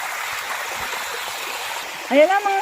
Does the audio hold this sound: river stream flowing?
yes